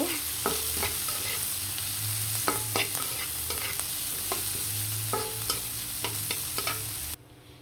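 Baila fish and onions frying in a pan while being stirred, a constant crackling sizzle punctuated by repeated sharp scrapes and taps of the spatula, ending abruptly.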